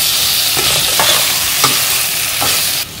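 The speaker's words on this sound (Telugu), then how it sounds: "టమాటోస్ దీనికి బాగా మిక్స్ చేసుకొని ఉడకనిద్దాం" Tomatoes being stirred and cooked in a hot pan for chicken tahari, giving a steady close sizzle with a few soft scraping strokes of the spoon.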